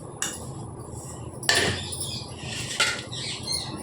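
A spoon clinks and scrapes against a bowl while ivy gourd 65 ingredients are mixed together, with a few sharp clatters among softer rustling, close by and with no talking.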